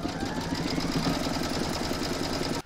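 Embroidery machine stitching a quilt block coaster in the hoop, a dense rapid mechanical chatter running steadily and close throughout before cutting off at the very end.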